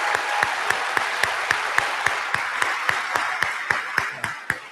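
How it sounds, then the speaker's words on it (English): Sustained applause from the audience at a university presidential investiture fills the hall, a dense wash of many clapping hands with a few sharp, rhythmic claps standing out at an even pace, fading slightly toward the end. "Please join me in a loud round of applause for their wonderful investment."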